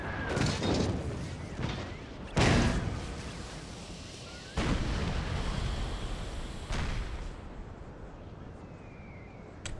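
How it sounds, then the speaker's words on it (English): Howitzer artillery fire in Total War's American Civil War mod at the battle of Seven Pines, with heavy booming blasts around 2.5, 4.6 and 7 seconds over a constant rumble of distant gunfire. "Those howitzers, man, they fucking crush in these, in the woods."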